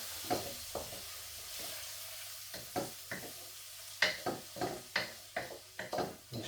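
Red onion sizzles in hot oil for a beef karahi while a spoon stirs it, giving a soft steady fry broken by a series of sharp scraping knocks against the pan, close and fairly quiet.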